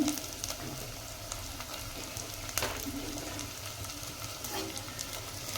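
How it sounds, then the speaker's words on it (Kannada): Tomato dropped into hot tempering oil in a home kitchen, sizzling steadily and fairly softly with scattered pops and stirring clicks throughout, with no voices. "ಈಗ ನಾನೊಂದು ಟೊಮೆಟೊ ಹಾಕ್ತೀನಿ"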